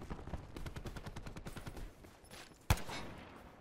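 Gunfire in Call of Duty Black Ops 4 multiplayer, a rapid burst of repeated shots followed by one sharp, louder report near the end, with no talk.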